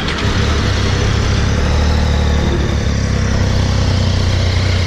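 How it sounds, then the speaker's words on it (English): A Triumph Tiger 800 XRX with an inline-three engine idles steadily after starting, giving a loud, even, close-up engine hum with a low throbbing note and no talking. "So let's start with the exhaust note. It starts like this, beautiful."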